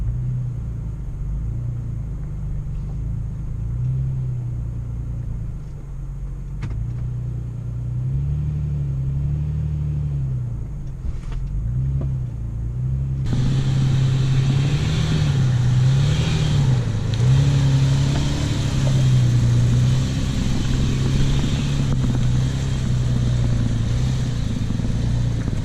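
A Toyota FJ crawls along an off-road trail in four-wheel high, a steady low engine rumble with gentle rises and dips in pitch, growing louder and rougher about halfway as the truck pushes harder over the terrain.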